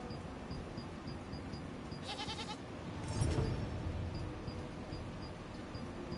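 Goats bleat in the Throne and Liberty online game, a couple of short wavering cries rising out of a steady layer of ambient game noise, with faint regular ticking in the background.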